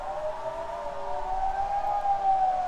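A Swiss civil defense siren sounds during a drill, a steady, sustained wailing tone heard from a distance and slowly rising in pitch, with no voices.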